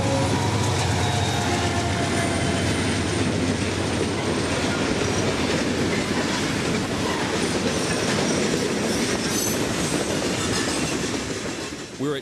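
A southbound freight train on the Florida mainline rolls past close by, a loud steady rumble with clattering wheels and metallic squeals that continues without a break.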